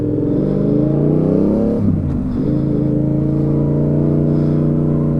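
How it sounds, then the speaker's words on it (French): A Yamaha XSR700 with its CP2 twin-cylinder engine revs in town, a loud, close, throbbing drone that climbs, drops sharply for a moment, then settles into a steady rumbling hum. "Bon, c'est une moto qui est bruyante, hein. Le problème du bicylindre et en plus du CP2"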